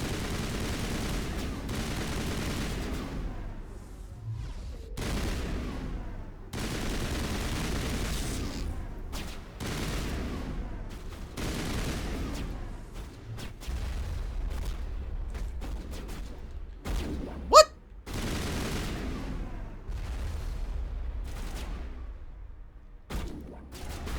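Sustained gunfire from the Mass Effect Legendary Edition video game, bursts of rapid shots repeating steadily with short gaps, one sharper crack standing out midway, loud and close.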